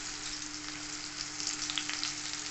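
Chopped onion and green chili sizzle in hot oil with cumin seeds in a steady, close hiss of frying, with a faint constant hum underneath and no voices.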